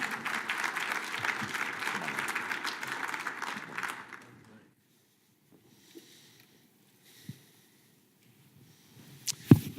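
Audience applause welcoming Dr. Dana Keoki Jackson, Lockheed Martin's chief technology officer, a dense burst of clapping that fills the room for about four seconds before stopping abruptly, followed by faint shuffles and a few quiet knocks.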